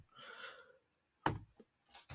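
Brief bursts of computer-keyboard typing, a short run of soft key clatter early on, then a few sharper isolated keystrokes later, close and quiet with gaps of silence between.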